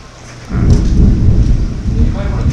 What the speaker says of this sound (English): Holy crap, lightning!